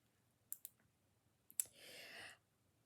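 A pair of small foldable scissors gives a few sharp, faint clicks, then a snip followed by a brief scraping rustle, close up in a quiet room.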